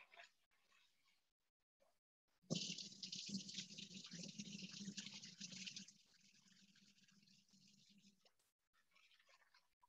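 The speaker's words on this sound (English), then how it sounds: "we switch to cold water. Give it a few rinses, and you'll notice how the water is already clearing up" Rice rinsed under cold running tap water in a home kitchen, heard as a steady splashing stream that starts abruptly, runs for several seconds, then softens to a quieter trickle before stopping, with no one speaking.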